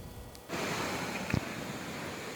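A waterfall visited on a group ride, roaring as a steady broad rush of falling water that swells in loudly after a brief quieter start and holds constant, with a short splash or knock partway through.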